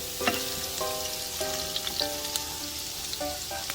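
Onion sizzles steadily in a hot pan while pork kare-kare is cooked, a close, continuous crackling fry with a few sharp pops and faint tonal notes in the background.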